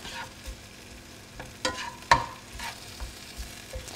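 Mushrooms frying in coconut oil with garlic in a pan give a soft, low sizzle, broken by a few quiet scrapes and clicks of stirring, with no voices.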